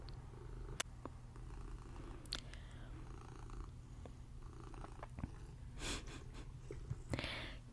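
A cat purring very quietly and steadily up close, a soft continuous rumble with a few faint rustles and small movement noises, no talk.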